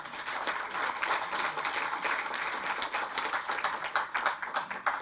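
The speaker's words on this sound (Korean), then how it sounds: "감사의 박수 크게 부탁드립니다" At a Democratic Party floor leader election event in Korea, a large audience breaks into vigorous, continuous clapping, many hands beating densely with crisp individual claps popping out, loud and unbroken with no talk over it.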